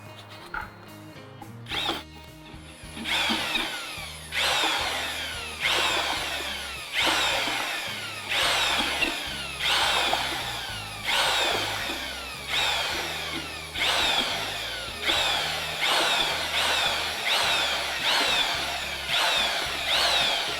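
Power drill with a mixing bit churning cement with Portland for a catalyst installation, running in repeated loud whirring bursts that rise and ease every second or two, close up with no talk.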